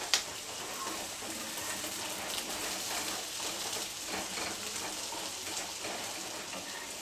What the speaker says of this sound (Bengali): এবার আমি আলু আর পেঁপেগুলোকে একসঙ্গে আরেকটু ভেজে নেব।